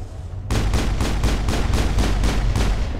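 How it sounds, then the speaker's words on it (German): After a brief lull, rapid bursts of gunfire from the Mass Effect video game rattle in a steady, loud rhythm, about eight close, punchy shots per couple of seconds with no talk. "Sorry, Shepard, aber es gibt keinen Preis für die meisten Schüsse."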